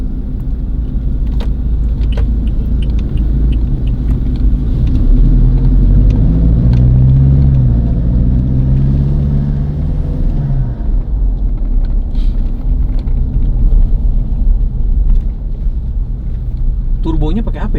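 A 2021 Toyota Fortuner with a 1GD diesel engine, custom exhaust and biosolar fuel rumbles loudly on a test track and revs up and back down midway, while people talk over the engine.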